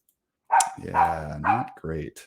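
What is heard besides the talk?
dog barking outside the door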